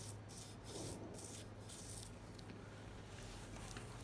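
A nylon bristle brush scrubs inside the slide rails of a handgun during cleaning, giving quiet, close, rhythmic rasping strokes repeated several times over a soft background hum.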